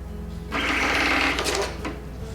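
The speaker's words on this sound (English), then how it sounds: "So I have a front exit K3 receipt printer right here." A front-exit K3 receipt printer at a retail checkout whirs as it prints a receipt, a steady mechanical buzz lasting about a second, ending with a faint click, no voices.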